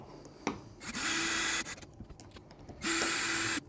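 A power driver runs twice in sustained whirring bursts while screws go into a smart lever lock's base plate, separated by short clicks and handling noise, close and fairly loud, with no talking.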